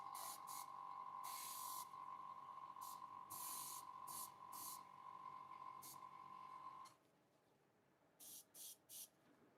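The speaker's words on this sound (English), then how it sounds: "once you hit it with the glossy varnish, this turns in really nice." Glossy varnish sprayed from a can onto cloudy translucent resin model parts: several short hissing bursts over a steady hum, then a quieter stretch ending in three more quick sprays.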